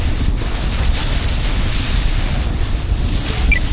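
Sea water sloshing and washing around a ship's deck as the vessel rolls in moderately rough seas, a steady broadband wash with wind noise, continuous and fairly loud throughout with no talk.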